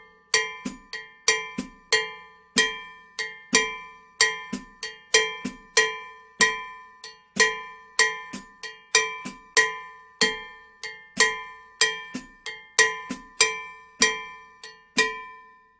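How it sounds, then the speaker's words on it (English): A cowbell plays a steady 6/8 bembe bell pattern, bright metallic strikes repeating in an even loop with accented hits, close and dry, alone without speech. "a bell pattern is played by either a cowbell player or a hoe blade player"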